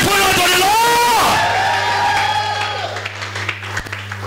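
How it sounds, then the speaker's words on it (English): Church congregation applauding and cheering loudly during a testimony, dense clapping with whoops and shouts that swell at first, then thin and fade out as an organ note holds underneath. "Please put your hands together for Jesus."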